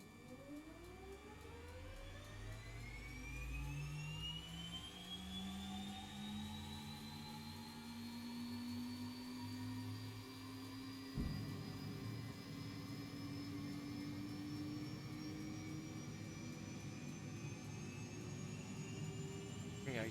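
A Beechcraft King Air's turboprop engine starts up in the X-Plane 12 flight simulator. A loud, rising whine spools up steadily across the whole stretch, with a dull thump partway through, and the engine keeps running as a continuous drone.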